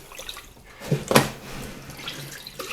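Dyed yarn being rinsed under a running tap gives a faint, soft wash of water with a brief, louder splash near the middle of the short clip.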